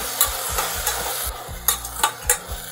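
Onions and tomatoes fry in a pan under a soft sizzle, while a spoon stirs and scrapes in repeated, rhythmic strokes with a few sharper knocks against the pan.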